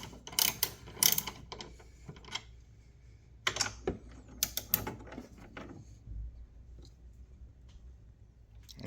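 A wrench tightens bolts while a Takeda intake goes onto a Genesis G70 3.3T, producing sharp irregular clicks and metallic clatter in short clusters, close and fairly quiet, with quieter gaps between bursts.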